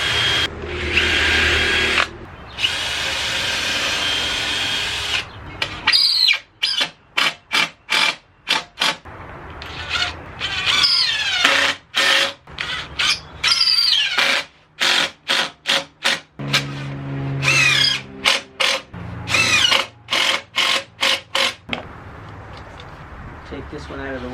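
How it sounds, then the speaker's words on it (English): A power drill pre-drills holes into wood for a cornhole board in repeated short bursts, whirring up and cutting off, with a longer run at the start and quiet gaps between. "I'm going to pre-drill the holes and then screw it together"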